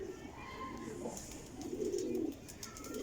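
Black fantail (phulla) pigeon cooing at close range, low throaty coos swelling twice over steady background hiss, with faint chirps and clicks around it.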